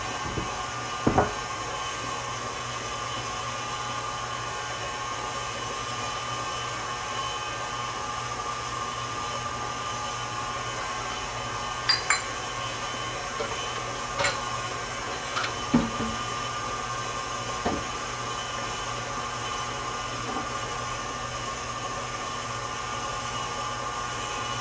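An electric mixer runs steadily, beating pound cake batter in a continuous broadband whir that lasts throughout, with a few faint clicks and knocks over it and no voices.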